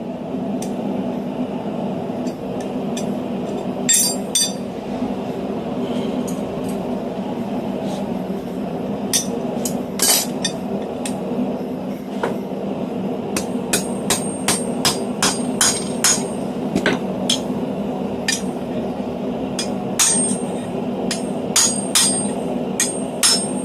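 Blacksmith hand forging steel for diamond (square) jaw tongs, with sharp ringing hammer blows on hot metal striking in irregular bursts and runs over a steady background hum.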